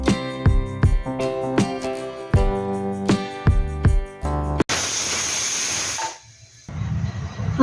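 A pressure cooker holding meat for a spice-free mutton liver curry gives a loud rush of hissing steam for over a second. Before it comes a run of rhythmic tonal pulses, and a quieter hiss follows.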